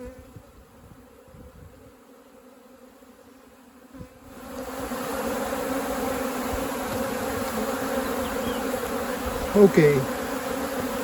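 Native honeybees from a rescued hive colony buzz steadily around the apiary in Manacor, Mallorca, a dense continuous drone that starts after a quiet opening and holds, with a few louder passes near the end and one brief spoken word.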